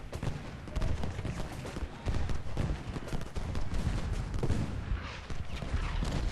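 Musket volleys ring out on an American Civil War battlefield at Gettysburg in the strategy game Ultimate General: Gettysburg, with ragged, crackling rifle fire rolling in irregular waves at moderate distance and a continuous battle din beneath.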